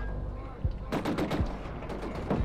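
Gunfire erupts in the video game Killzone Shadow Fall: after a brief lull, rapid loud bursts of shots crackle close by for over a second.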